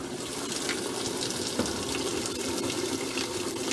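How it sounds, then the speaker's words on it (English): Water gushes steadily into a washing machine drum on a casual wash cycle, a continuous loud rushing fill with no pauses and no talking. "then I'll put some water in there"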